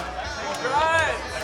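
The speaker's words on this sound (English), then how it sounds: "the crowd is popping off with him. There's a lot of noise going on right now." Loud tournament crowd at a gaming event cheering and shouting, a dense babble of voices with whoops rising midway, busy and close throughout.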